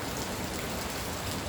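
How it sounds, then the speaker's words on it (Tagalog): Steady rain falls continuously, a dense, even hiss of drops hitting a surface with no pauses or voices. "pero ulan jud kay siya. As in ulan. Ulan kay siya."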